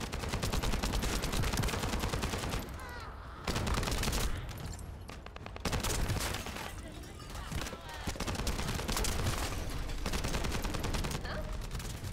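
Sustained automatic gunfire in The First Descendant, loud rapid bursts filling most of the stretch with brief pauses between volleys, and a voice speaking amid the shooting.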